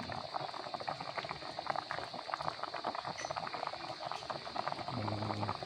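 Coconut milk (gata) boiling with tilapia in a pot, a steady dense bubbling and simmering that fills the whole stretch, close and even, with no talk over it.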